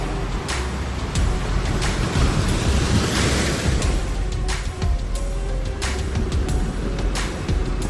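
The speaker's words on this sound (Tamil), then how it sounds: "திடீரென்று கடலில் பெரிய அலை வந்து படகை அடித்து சென்று விட்டது" Continuous rushing roar of the sea with repeated waves crashing and surging, a windy hiss underneath throughout.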